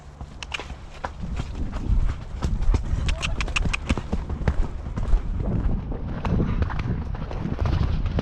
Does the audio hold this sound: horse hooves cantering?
yes